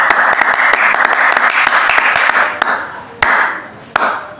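A congregation applauds steadily through a church prayer service, with dense continuous clapping and a few sharper individual claps standing out near the end as the sound thins.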